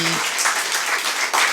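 Brief burst of audience applause at a theatrical farce, dense clapping following a short voiced sound, steady with a swell near the end.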